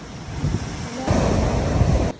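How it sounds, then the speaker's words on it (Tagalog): Surf and gusty wind at a beach campsite on Isla Chica, with steady rushing waves and buffeting wind noise on the microphone, swelling louder about halfway through. "Maalon at mahangin ang dating namin dito"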